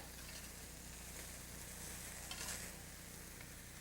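Vegetables sizzling in a pan with already cooked shrimp, a faint continuous frying hiss with soft stirring scrapes, steady and quiet with no talk.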